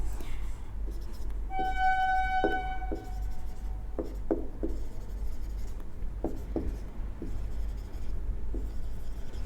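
Chalk or marker scratches and taps out a formula on a classroom board during a physics lesson, a series of short strokes and squeaks spread over several seconds against a steady low background hum.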